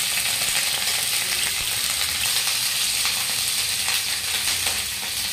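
Cauliflower and potato frying in a pan for a Bihari-style dry vegetable dish, a steady, dense sizzle that holds even and continuous throughout with no voices.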